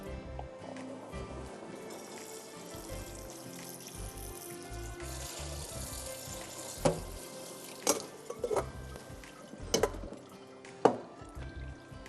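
Boiled macaroni is drained through a strainer in a kitchen, giving a long, steady pour of water with sharp clinks and knocks of the pan and strainer toward the end.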